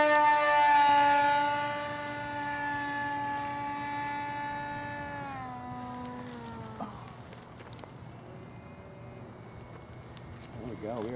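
A small electric model airplane motor, an EA Photon, spins up to a steady high whine with bright harmonics, then drops in pitch and fades as the plane is hand-launched, leaving faint wind and distant sound.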